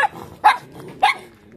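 A dog gives three short, sharp barks spaced about half a second apart, close and loud, with no talking.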